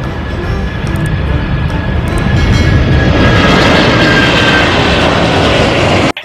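Loud, sustained roar of an airplane engine passing nearby, swelling in intensity before cutting off abruptly at the end.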